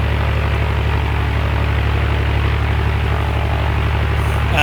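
A G36 Bonanza propeller plane's engine in the X-Plane 11 flight simulator drones steadily and loudly throughout, a constant buzzing hum with a strong low-pitched throb and no voices.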